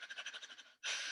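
Rapid rhythmic fire breath from a qigong session: about ten quick, even breathy pulses, then a pause and one long, louder forceful exhale, close and clear with no talking.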